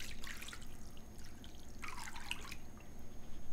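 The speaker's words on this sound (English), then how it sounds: "we're going to fill up our can to the top with some water, and we're going to pour that over top too" Water is poured from a can over stuffed grape leaves in a pan, giving a faint splashing trickle in a few soft bursts over a steady low background noise.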